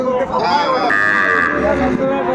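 Sahiwal bull calves at a rural cattle market in Narail, one loud, close moo drawn out over a couple of seconds amid a busy crowd murmur and nearby voices.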